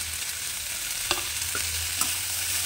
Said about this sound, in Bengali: এবার ঢাকনাটা খুলে একটু নাড়াচাড়া করে নেব